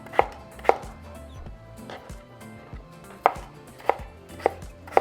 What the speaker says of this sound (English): so now we're just going to cut our potatoes into small little cubes.